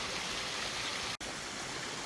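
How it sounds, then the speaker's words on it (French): A small mountain waterfall cascades in the Vanoise with dense, steady rushing water, close and loud, broken only by a split-second dropout. "la petite cascade qui va bien pour remplir l'eau"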